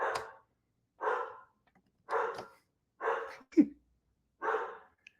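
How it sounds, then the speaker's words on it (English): A dog barks in five separate short bursts spaced about a second apart, fairly close and clear, with no talking over it. "My dog is barking, barking, barking."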